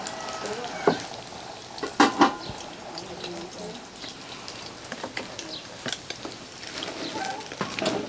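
Oil sizzles and crackles steadily as pre-steamed chicken legs fry in a pan, with occasional clatters from utensils and brief talking in the background.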